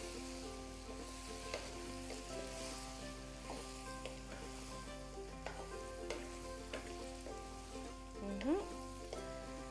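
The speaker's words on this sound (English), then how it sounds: "Okay, and now we're gonna stir it." Lahori murgh cholay with finely chopped tomatoes being stirred in a pan, a steady close sizzle of frying under repeated scraping strokes of a spoon, with a brief louder scrape near the end.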